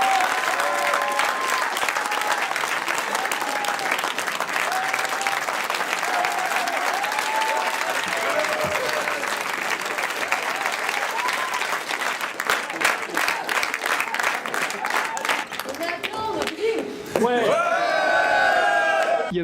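A packed cinema audience applauds at the end of a film screening, dense sustained clapping throughout, with voices and whoops rising over it near the end.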